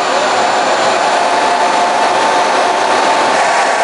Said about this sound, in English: now let's go ahead and run the hairdryer